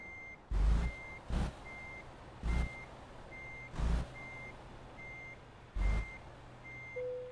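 Reversing beeps from a truck backing up under a trailer in Euro Truck Simulator 2 ring out as a steady, evenly spaced series of tonal beeps, about nine of them, with several loud low thumps breaking in between.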